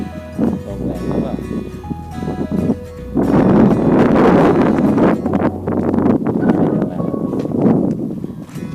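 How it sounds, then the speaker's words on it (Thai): Strong wind buffets the microphone outdoors at Mon Angket in rainy weather, a loud rushing roar that swells and stays heavy through the latter part, gusting unevenly. "ลมแรงหรือเปล่า"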